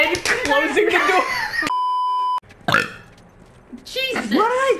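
A loud, aggressive burp belched close into a microphone, opening a burst of talk and laughter, followed by a steady beep tone and then more voices.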